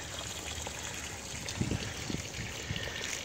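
Water trickles gently in a backyard water garden, a faint, soft flow with a few small splashing bursts, alone and without voices.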